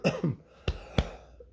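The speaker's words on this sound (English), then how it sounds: "I yelled myself into a cough." Several short coughs close by, a quick pair of throat-clearing bursts followed by two sharper single coughs, then quiet.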